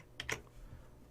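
A few faint, quick keystrokes on a computer keyboard while a server name is typed, clustered in a short burst and then fading into quiet room tone.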